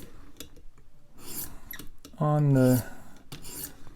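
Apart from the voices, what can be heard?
knife being sharpened on a sharpening stone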